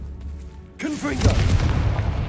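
A Bombarda-style Confringo fire spell goes off in Hogwarts Legacy gameplay, a sudden booming blast that sweeps in after a short eerie whoosh and rumbles on loudly for about a second and a half.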